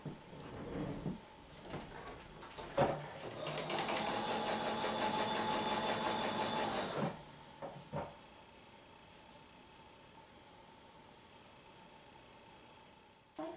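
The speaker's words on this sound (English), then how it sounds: "we're going to take one of our triangles and we're going to sew along that edge" A home sewing machine stitches along the edge of quilt triangle units for a festive tulip block, a steady mechanical whir running for a few seconds between softer handling clicks and bumps, close and alone with no talk.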